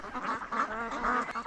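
A flock of ducks at a winter duck farm in Lianzhou, Guangdong, raised for cured duck, quacking and honking continuously at close range, many overlapping calls with no talk.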